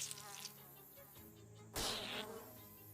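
Tick wasps from the video game Shadows Over Loathing buzz steadily in a quiet scene, a thin insect drone that is cut off by a sudden louder burst partway through.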